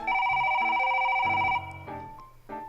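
A telephone rings with a steady electronic tone, loud and alone for about a second and a half, then shorter bursts of ringing follow after a pause, with no voices.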